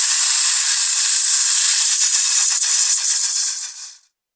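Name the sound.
hiss sound effect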